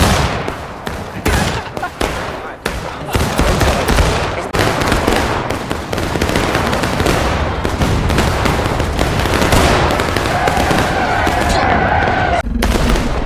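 Musket fire in the Civil War battle game War of Rights, a dense close crackle of rapid overlapping shots from independent firing along a line, loud and continuous, with voices shouting underneath.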